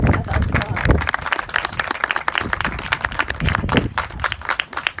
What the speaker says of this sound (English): So if you would please give each other and yourselves a big round of applause.